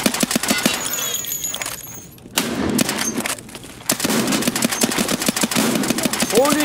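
Video game gunfire empties a drum magazine in rapid bursts of automatic shots, broken by short pauses and mixed with game effects and a speaking voice.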